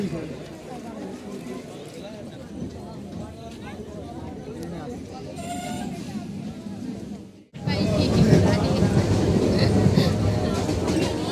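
A train in a crowded setting, a rumbling clatter of rail cars under talk, cutting briefly to near silence before a louder, denser rush of train noise takes over.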